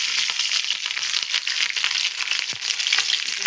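Green chillies and onions fry in hot oil with tempering seeds, giving a loud, close, crackling sizzle with sharp pops and occasional stirring scrapes, and no voices.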